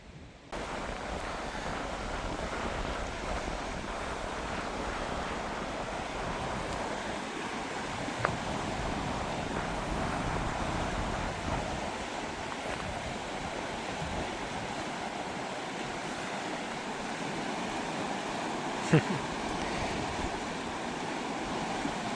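A rushing river in Wyoming bear country flows steadily in a soft, continuous wash of water with no voices.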